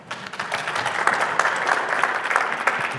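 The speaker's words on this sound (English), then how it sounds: "So a little quick round of applause for Scott." Room of attendees at a Verizon 5G business event applauding a speaker, steady moderately loud clapping throughout with no talk over it.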